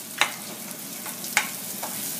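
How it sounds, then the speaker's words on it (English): Onion dropped into about two tablespoons of hot oil for chicken keema sizzles softly, broken by a couple of sharp stirring scrapes and clicks close by. "There's about 2 tablespoons of oil here. In the oil, I'm going to put the onion,"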